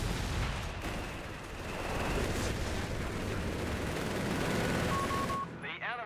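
An artillery barrage rumbles through a Company of Heroes 3 battle, a dense, continuous roar of blasts and gunfire that stays loud nearly throughout and cuts out just before a short voice near the end.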